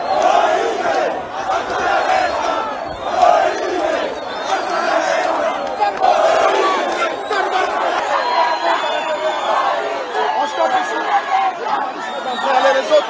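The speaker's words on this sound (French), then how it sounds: "Une foule immense chantant et scandant son nom était venue l'accompagner" A large crowd of supporters sings and chants a presidential candidate's name at a Congolese polling station, a dense, continuous roar of many voices with rhythmic chanting that holds steady throughout.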